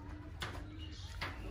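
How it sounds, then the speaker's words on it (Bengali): Many pigeons kept in a village pigeon house coo faintly in a soft, continuous rumble, with a couple of brief louder bursts over steady background noise. "কাকা এদিকে অবশ্য কবুতর পালে, কবুতরের ঘর কি সুন্দর করে"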